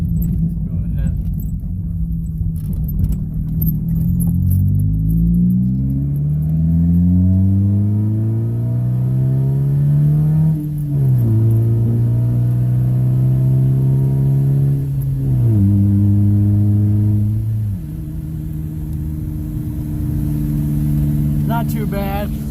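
A Ford Focus with its muffler deleted drives along a bumpy driveway, a steady low exhaust drone rising and shifting through gears, loud and close throughout.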